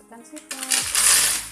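Seafood, including snails, dropped into a cooking pot of water with tomato for a noodle dish: a short clattering rattle of shells hitting metal, then a brief splashy rush, close and fairly loud.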